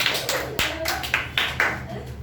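Audience at a school public speaking competition on nature claps for a student named Ritik, with a few scattered bursts of clapping and taps over a constant low hum of the room.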